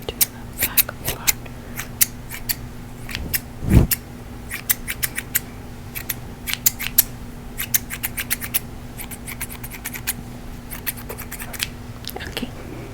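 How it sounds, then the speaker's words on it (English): Scissors snip hair during an ASMR haircut roleplay, close and crisp, in quick bursts of repeated cuts separated by short pauses, with a few soft handling rustles and no talking. "we cut all of your hair off"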